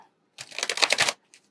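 Tarot cards are shuffled in one brief, close riffle lasting under a second, followed by a small soft tap and then quiet.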